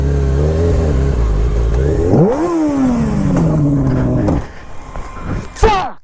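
A motorbike stuck in a bog revs its engine loudly and steadily, with the pitch climbing and then sliding down before the engine drops off and sputters near the end.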